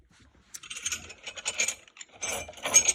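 Coins clink and jingle together in a cluster of bright metallic taps, close by, growing busier toward the end.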